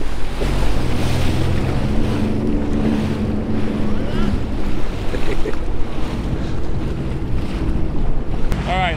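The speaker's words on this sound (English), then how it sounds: "it's a bit too windy at the moment" Strong wind buffets the microphone on a boat crossing Lake Ontario, a loud continuous roar mixed with water and engine rumble, with no clear talk.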